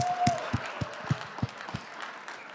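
Scattered, hesitant clapping from a small audience at a Kazakh stand-up comedy show: a handful of distinct claps spaced roughly a third of a second apart, moderately near, with faint murmur underneath.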